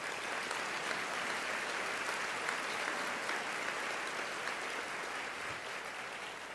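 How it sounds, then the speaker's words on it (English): An audience at a State of the City address applauds steadily, a dense even wash of many hands clapping from a distance that holds for several seconds without letting up. "Please give them all a round of applause"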